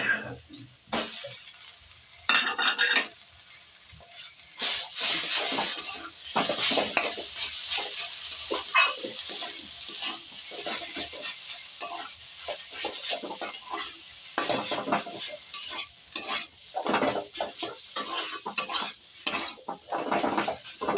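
Boiled potatoes are stirred in a hot pan, with sizzling under repeated scraping and clinking of a metal spatula, the strokes coming in irregular bursts with brief quieter pauses.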